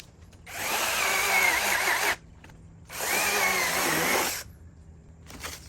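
A small Inokrat mini chainsaw cuts into a large traveling palm: two loud, even buzzing bursts of about a second and a half each, separated by a pause of idle hum, then a third burst starting.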